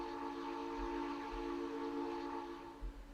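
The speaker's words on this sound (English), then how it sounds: "The steam whistle from the dredge, which is pretty cool" Steam whistle of a dredge in the railroad game RailRoads Online, a loud steady multi-tone blast that holds for about three seconds over a low rumble, fading slightly near the end.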